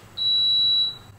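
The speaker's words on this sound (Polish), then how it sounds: "No już, fałszywy alarm." A kitchen smoke alarm gives one sharp, high-pitched electronic beep lasting about three quarters of a second, loud and clear over a quiet background.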